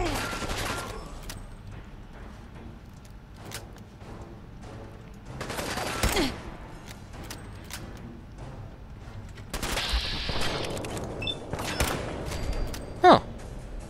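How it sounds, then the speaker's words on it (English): Tommy gun fire in Fallout 4, heard as scattered bursts and sharp shots with a heavier cluster near the start and middle, one loud crack near the end, over a low game background. "It's a Tommy gun."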